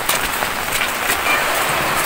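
Rain falls steadily, a broad, even hiss of drops on surfaces, fairly loud and continuous, with no voices over it.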